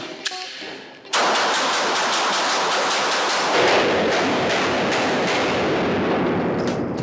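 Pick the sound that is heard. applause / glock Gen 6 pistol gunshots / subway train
glock Gen 6 pistol gunshots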